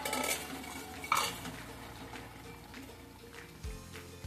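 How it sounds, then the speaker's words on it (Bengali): Lid lifted off a cooking pot of ridge gourd with mustard and poppy seed paste, a brief metallic clank near the start followed by soft clinks and faint stirring, quiet and close with no talk. "এবার আমি ঢাকাটা খুলে দিলাম"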